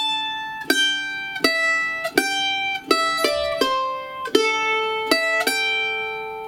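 Mandolin plays the first three measures of a bluegrass tune, a series of about a dozen bright picked notes with ringing sustain and an even rhythm, close and clear with no talking.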